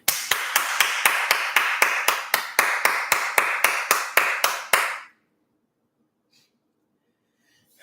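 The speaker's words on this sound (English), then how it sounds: "I have to clap for you" Steady, brisk hand clapping, about fifteen claps in a regular rhythm, close and loud, then silence.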